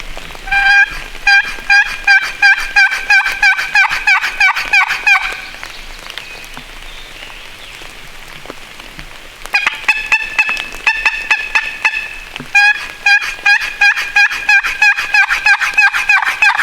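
A wild turkey in Pennsylvania gobbles loudly and close by in repeated rattling bursts, with a quiet gap in the middle and a soft rain-like hiss between calls.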